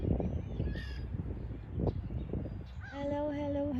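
Crows caw outdoors in a few harsh, drawn-out calls that come clearly near the end over a steady bed of wind and background noise.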